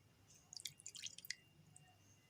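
Lemon juice is squeezed over chicken, giving a short run of faint, close drips and tiny squishy splats in otherwise quiet surroundings.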